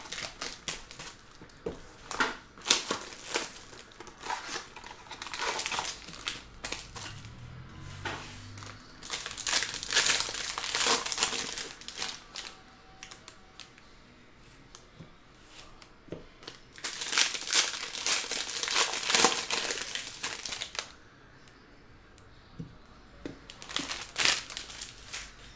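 A box of Topps Triple Threads baseball cards is opened with bursts of crinkling, tearing wrapper and rustling packaging, close and fairly loud, broken by short quieter gaps.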